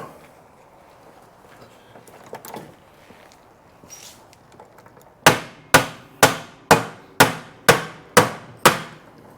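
A hammer whacks a Honda CR-V trailing arm bushing in a run of eight sharp, evenly spaced metallic blows, loud and close, after some quieter shuffling and tapping.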